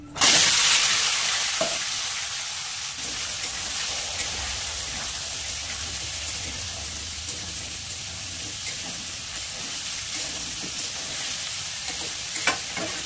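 A sharp burst of sizzling as chopped vegetables hit hot oil tempered with cumin, dried red chillies and bay leaves, settling into a steady, crackling fry with occasional stirring taps.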